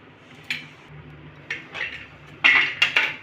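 Pot lid and pan clatter while jackfruit curry is cooked and stirred: several separate metallic clinks and knocks, sparse and close, with the busiest cluster at the end.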